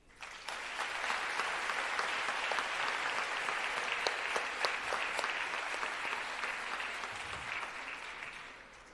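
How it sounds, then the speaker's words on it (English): Sustained audience applause in a memorial moment for a doctor at a scholarship awards ceremony, a dense, steady wash of many hands clapping for about eight seconds before tapering off, with no talk over it. "Let us pause for a moment of applause in his memory."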